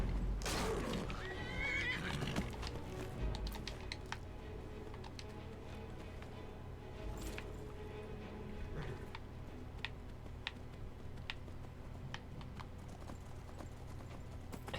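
A horse in the Skyrim video game whinnies loudly at the outset, then its hooves keep up a steady clip-clop over a low ambient bed, with no talking.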